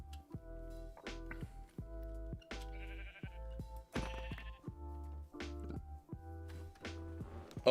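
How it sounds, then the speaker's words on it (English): Sheep in the Minecraft video game bleat repeatedly in short, nasal calls, along with soft tapping and footstep-like sounds of play; no talking is heard. "While I kill more sheep."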